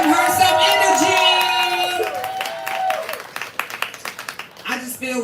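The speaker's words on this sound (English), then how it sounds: "Clap it up for a poet." An all-woman open mic audience claps and cheers for a poet, with a high whoop and shouts over the applause at first. The clapping then thins into scattered claps near the end.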